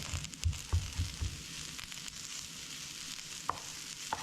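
Ginger and garlic frying in a pan for a leftovers meal, a soft steady sizzle with a few low stirring bumps, quiet and close, no talking.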